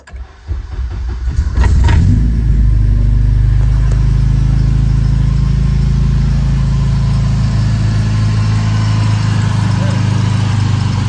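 A Honda K-series-swapped CRX engine cranks briefly, catches and starts, then revs up and settles into a loud, steady running rumble close by.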